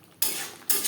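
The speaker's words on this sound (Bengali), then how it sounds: "2-3 মিনিট মশলার সাথে পটল নাড়াচাড়া করে নেব" Pointed gourd is stirred with spices in a pan over high to medium flame, two sharp scraping strokes of a utensil against the pan, close and clear, separated by a brief pause.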